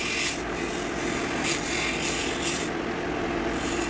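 A 1/4 inch gouge cuts an oak and resin bowl on a wood lathe, giving a steady, continuous scraping rasp that stays fairly loud and unbroken throughout, with no voices.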